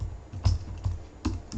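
Keys clack on a computer keyboard in a few separate taps and short bursts, close and clear, with no talking.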